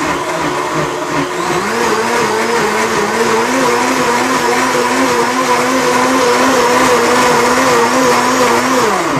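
A blender running a whole-juice cycle on greens roars steadily at high speed, its whirring motor pitch wavering slightly as it churns, loud and close with no talking.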